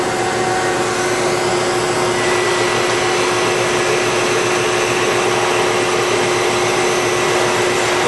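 A Producto 66-inch CNC vertical drill and bore machine moving on jog produces a loud, steady mechanical whir and hum that runs unbroken throughout.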